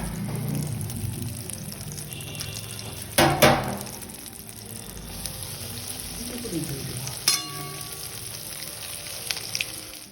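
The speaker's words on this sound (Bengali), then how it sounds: "তেল গরম করে খুব আলতো হাতে আস্তে করে কিন্তু তেলের মধ্যে ছেড়ে দেওয়া হলো" Egg chops, boiled eggs wrapped in a coating and gently lowered into hot oil, fry with a steady close sizzle broken by two louder crackling bursts.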